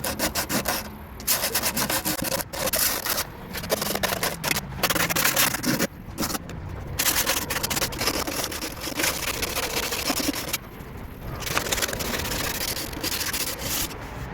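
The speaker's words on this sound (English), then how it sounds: "keep going over it until you get to about bare metal like this with the 100 grit sandpaper" 100 grit sandpaper rubs back and forth over rusty metal near the rear taillight of an R53 Mini Cooper, a close, loud, rasping scrape in rapid uneven strokes with brief pauses.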